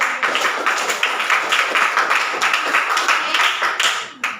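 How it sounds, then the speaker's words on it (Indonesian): A class of students claps hands together in a classroom after a teacher's prompt, a dense, steady patter of many close hands that continues for about four seconds with a few quieter gaps. "Oke, tepuk tangan dulu."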